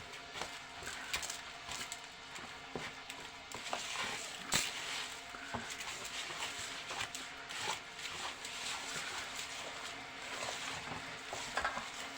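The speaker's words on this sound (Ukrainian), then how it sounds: "Все, замішуємо фарш." Minced meat filling for grape-leaf dolma is mixed by hand, making continuous soft squelching and slapping sounds with irregular wet clicks, close and alone.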